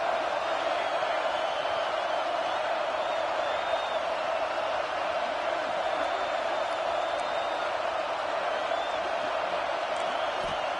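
Video-game stadium crowd at an NCAA college football game between Texas and LSU, rising behind the defense on third down, a steady, dense roar of cheering with faint whoops, sustained and even throughout.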